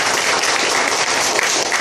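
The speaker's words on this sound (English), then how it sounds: "So give yourself a round of applause for being here today." Audience applause fills a conference training session, a dense, steady wash of many hands clapping at full volume throughout, with no pauses and no voices standing out.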